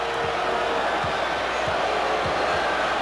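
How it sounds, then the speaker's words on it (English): Crowd ovation at a 1993 Knicks vs. Bulls playoff basketball game as a player is substituted, a steady wash of applause and cheering across the arena, with basketball bounces thudding beneath it. "An ovation for Charles Smith as he is replaced by Anthony Mason."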